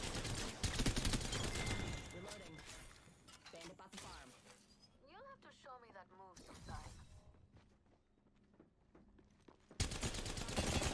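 Heavy gunfire in the Apex Legends video game as shots hit a Wraith, with loud dense volleys at the start and again at the end and quieter action between.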